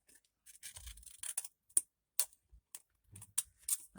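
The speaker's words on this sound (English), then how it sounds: "let's just go ahead and use our little handy dandy scissors here" Quick, crisp snips of scissors slicing through paper come in irregular bursts, close and fairly quiet, with brief pauses between cuts.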